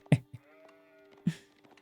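Sheep bleating in the real-time strategy game Age of Empires 4: two short bleats close together at the start, then another a second later, over a faint steady game hum.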